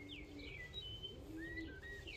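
Birds calling in a grizzle pigeon breeding loft, several high chirps and whistled notes over a low ambient hum, faint and somewhat distant.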